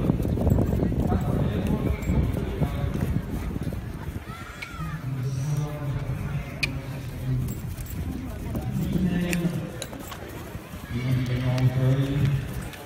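Horse's hooves clip-clopping at a horse auction in Decize, irregular bursts of steps heard under continuous French speech from an announcer.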